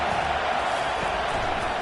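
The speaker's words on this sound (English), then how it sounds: "Decibels rising as the crowd gets behind this defense on third down." A stadium crowd roars during a football game as the defense lines up on third down, a dense, steady wall of cheering that stays loud and even for under two seconds.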